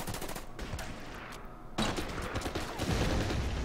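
Rapid gunfire from the Order of Battle video game, a US Marines battle in the Marshall Islands, crackles in dense bursts that swell louder midway and keep going without pause, with no voices.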